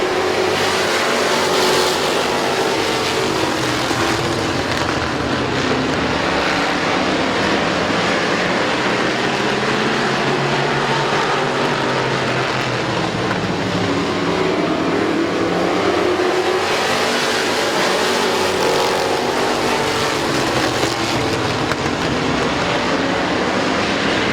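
Race cars roar around the Midvale Speedway oval in July 2018, a dense continuous engine drone that swells and fades as the pack passes, with crowd and track noise blended underneath and no talk.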